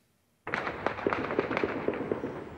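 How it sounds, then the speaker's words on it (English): Gunfire and explosions in Baghdad's Green Zone at night: a rapid, crackling burst of many sharp pops begins abruptly after a short silence and continues densely, heard from a distance. "Gunfire heard from Baghdad's Green Zone early on Sunday morning."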